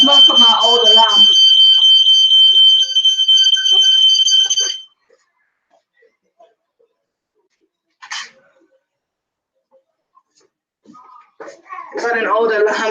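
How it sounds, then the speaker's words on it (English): An old kitchen smoke alarm, tripped by smoke from home-cooked burgers and chicken wings, shrieks loudly for about five seconds alongside a voice, then stops; a brief voice and later talking follow in quiet. "Got an old alarm there."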